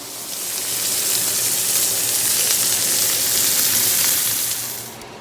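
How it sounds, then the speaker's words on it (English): A steak sears on its sides in a hot pan, giving a loud, steady hiss that swells in and holds evenly before easing off at the end. "sear the sides of your steaks"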